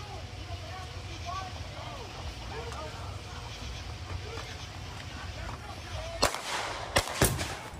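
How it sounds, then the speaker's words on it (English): Gunfire on a rural Pennsylvania highway east of Pittsburgh at night: three sharp, loud shots ring out in quick succession near the end, over a continuous road rumble with people talking earlier. "Gunfire on a rural Pennsylvania highway Monday night east of Pittsburgh."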